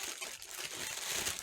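A plastic bag crinkles around a Super Nintendo game cartridge, a quiet, close, continuous rustle over a brief moment.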